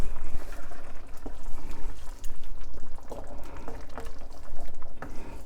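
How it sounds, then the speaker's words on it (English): Cornstarch slurry goes into a simmering beef and broccoli sauce, giving a continuous wet bubbling and liquid churn with small splashes, close and steady from start to finish. "So we're going to add a little bit more slurry"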